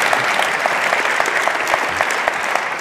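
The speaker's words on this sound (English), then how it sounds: "So I think this guy deserves a little bit of applause." Dense, steady applause from a conference audience fills the room, loud and continuous with no talking over it.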